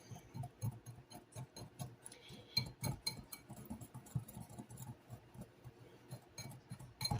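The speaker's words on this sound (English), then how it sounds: "Now we're going to whisk this together." Cinnamon crumb mixture whisked by hand in a bowl, giving quick, close, rhythmic clinks and taps of the whisk against the bowl, with no talking.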